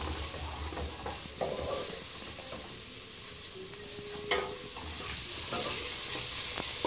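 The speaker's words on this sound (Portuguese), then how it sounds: "Aí você deixa refogar bem." Bacon, onion and garlic sauté in a pan for a cassava broth, giving a continuous close sizzle with occasional scrapes and stirring clinks, moderately loud.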